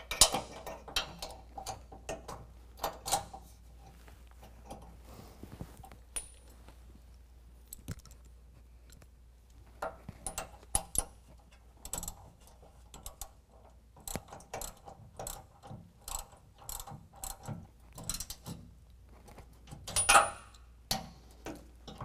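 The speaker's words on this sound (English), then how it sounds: "tighten down the bolt holding our support brace to our bracket" A ratchet clicks in short, irregular bursts while tightening the bolt that holds a support brace to the bracket of a Steelcraft full-width rear bumper on a 2020 Jeep Gladiator, close and fairly quiet, with pauses between strokes.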